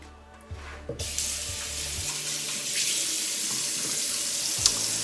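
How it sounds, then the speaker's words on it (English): Tap water running into a sink while hands are washed under it, a steady close rush that starts after a second of quieter splashing and continues alone. "So, I'm gonna wash my hands."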